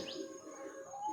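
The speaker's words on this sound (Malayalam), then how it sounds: "പിന്നെ മെല്ലനെ പക്ഷികളുടെ ശബ്ദം ഇങ്ങനെ വന്നുകൊണ്ടേയിരുന്നു" Birds chirp faintly in a natural outdoor setting, with a brief sweeping call and thin tonal notes over quiet background.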